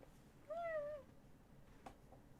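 A pet cat gives one clear, close meow lasting about half a second in a quiet room, followed by a faint soft tap.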